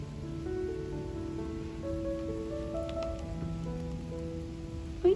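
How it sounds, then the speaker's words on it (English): Rain falls outdoors in a garden, a soft steady patter on surfaces heard alone at moderate level, with faint tonal ringing in the background and a brief knock at the very end. "It's raining"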